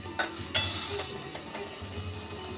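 A little water is poured into a pan of pumpkin and potato curry, bringing a short burst of sizzling and spattering with a couple of spoon clinks against the pan, moderately close with no talking.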